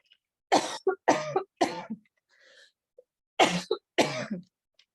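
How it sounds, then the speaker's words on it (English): A fit of several harsh coughs in quick bursts, close and loud, with short silent gaps and a faint throat sound between. "I apologize about that little coughing fit"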